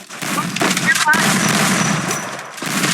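Automatic gunfire in the Free Fire shooter game rattles on continuously, loud and close, with bursts overlapping throughout and a few sharp cracks standing out.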